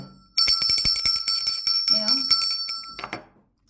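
A bell rings repeatedly with a bright, sustained metallic tone while voices talk over it.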